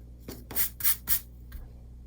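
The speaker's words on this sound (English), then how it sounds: "let's erase all this." Rubbing of a pencil eraser across drawing paper: four short, soft strokes close to the microphone, with the middle strokes the loudest and a fainter one after a pause, in a quiet room.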